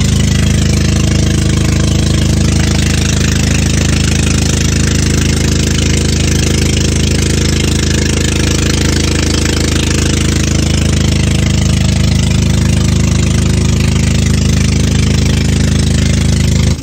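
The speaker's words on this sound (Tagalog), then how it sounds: "hindi na nga kami magkarinigan dito sa loob ng bangka kasi nga napakaingay nga ng makina" Loud, steady engine of a passenger boat drones through a long trip to a barangay fiesta, a constant low rumble with heavy mechanical noise filling the whole stretch, no voices heard.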